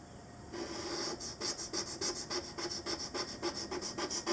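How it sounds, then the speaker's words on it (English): Hard rhythmic scrubbing across a charcoal drawing surface, pressing with the top of a brush handle to lift the charcoal, makes a close, harsh rasping scratch repeated in quick even strokes. "And as I scrub the surface, it pulls up the charcoal. Makes a horrendous sound."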